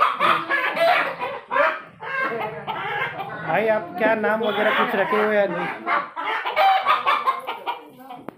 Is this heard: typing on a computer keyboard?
no